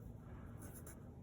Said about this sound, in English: I'm gonna write down what I see.